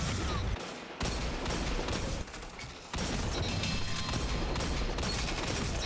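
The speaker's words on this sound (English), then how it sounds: "This hand cannon just feels sticky and incredibly satisfying to use. And the sound it makes, just listen to it." A hand cannon fires in the Destiny 2 video game, producing loud, rapid bursts of gunfire that come in dense clusters with brief pauses between volleys, close and punchy throughout.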